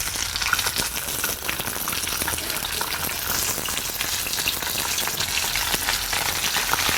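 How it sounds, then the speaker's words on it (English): Fish pre-frying in a pan of hot oil for a coconut-milk soup, giving a steady, dense sizzle with fine crackling that holds at an even level throughout, close up and with no voices. "We're gonna leave this in here for a couple minutes so they can fry up a little bit."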